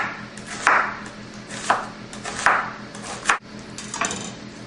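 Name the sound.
knife chopping onion into long slices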